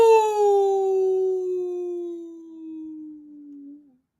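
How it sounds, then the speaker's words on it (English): A single long howl glides slowly downward and holds for about four seconds before tailing off, clear and tonal with no other sound around it, probably a person voicing a coyote's call across the countryside. "Howls Coyote, miles from the house."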